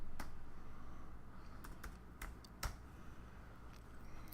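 Computer keyboard typing in a quiet room, a handful of soft, irregular key clicks spread over a few seconds, faint and close.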